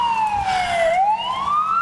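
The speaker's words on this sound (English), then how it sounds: "Oh, I don't think that siren's for me" An emergency siren wails nearby, its pitch sliding down and then rising again in one loud sweep.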